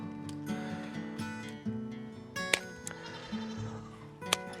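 A goat bleats repeatedly during hoof trimming on a farm, several wavering, nasal calls up close, with clicks and handling noises between them.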